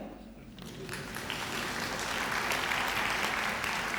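Audience at a university graduation ceremony in Pretoria breaks into applause, starting moderately and swelling into steady, dense clapping from a large crowd that continues to the end.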